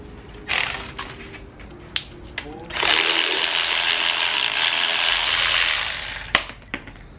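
A wrench works on alternator bolts on a Mazda Miata engine, giving a few short metallic clicks and then a steady, longer ratcheting whir at close range, followed by a couple of sharp knocks; no one talks.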